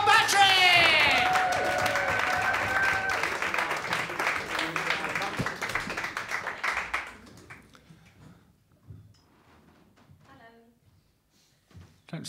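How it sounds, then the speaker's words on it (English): Audience applause and cheering welcoming a comedian onto a stand-up comedy stage, loud and full for about seven seconds with a sharp whistle early on, then quickly thinning to scattered faint claps. "Please, can we once again get applause all the way around the room?"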